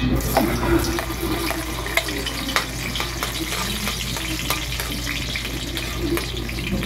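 Garlic drops into hot oil and sizzles with a steady, crackling fry, close by and moderately loud, with a few small clinks from a utensil and no talking.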